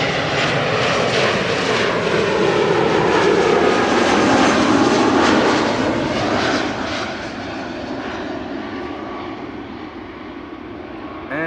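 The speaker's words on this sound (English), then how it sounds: "This is BA City Flyer arriving from London City." A BA City Flyer airliner arriving at Amsterdam Schiphol Airport from London City, its loud, broad engine roar holding steady then easing slightly as it passes, with no voices.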